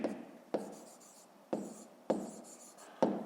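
A pen writing by hand during a fifth-grade math exercise, close and quiet: short scratchy strokes in bursts, each starting with a sharp tap, four or five in a row with brief pauses between.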